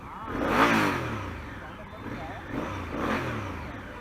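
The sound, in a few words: motorcycle exhaust revving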